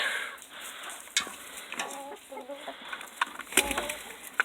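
Chickens cluck softly nearby in short bursts, with light rustling and scratching around them.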